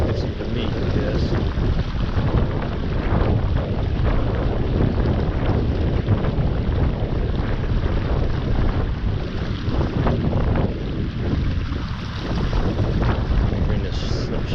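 Wind blowing outdoors beside Big Run Creek, a loud, steady low roar buffeting the microphone without a break for the whole stretch.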